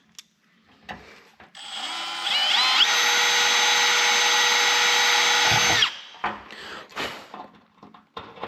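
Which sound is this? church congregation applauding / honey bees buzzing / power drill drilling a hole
power drill drilling a hole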